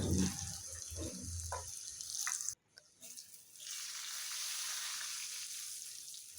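Beef pieces for a Chittagong-style kebab fry in a pan, a soft steady sizzle with a brief break midway, preceded by some low clattering and stirring, fairly quiet overall.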